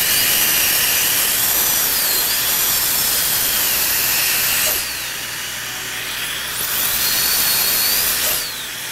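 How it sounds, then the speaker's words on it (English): A diamond dental bur grinds porcelain off a crown during crown removal, giving a loud, steady high-pitched whine with hiss that stops briefly in the middle and then resumes. "I'm going to go back and take a diamond again and get a little bit more porcelain off of there"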